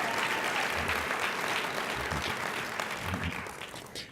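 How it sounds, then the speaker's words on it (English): Sustained audience applause at an awards banquet honouring Mike Castle, a dense steady clatter of many hands that fades out toward the end, heard at a moderate distance. "Let's give Mike another round of applause."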